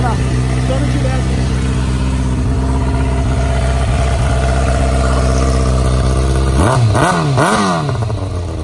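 A motorcycle running with no exhaust muffler idles loudly up close, then revs hard in a few sharp rising and falling bursts near the end.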